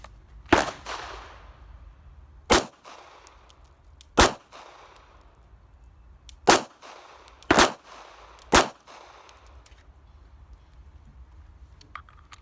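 Pistol shots fired in an NRA defensive pistol qualification course: about six loud, sharp reports at irregular intervals, each ringing out briefly before the next, with no talking between them.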